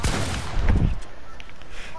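Video game gunfire, a loud burst of rapid shots and booming reports up front that fades into sparser distant pops and clicks, with a voice talking briefly.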